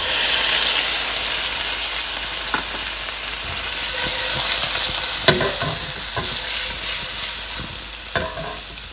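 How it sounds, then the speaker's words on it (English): Shrimp frying in a fry pan gives a loud, continuous close sizzle, broken by scattered clicks and scrapes from stirring, with no talking. "I'm going to add all the shrimp over the fry pan."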